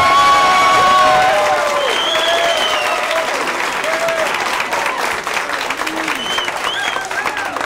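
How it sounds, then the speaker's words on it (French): An audience at a start-up pitch event breaks into loud applause with cheering and a few whoops, the clapping staying dense and strong before easing slightly toward the end. "d'applaudir immédiatement"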